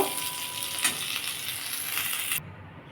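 Pointed gourd frying in hot oil in a pan, a bright continuous sizzle with a single clink of a utensil, cutting off abruptly near the end.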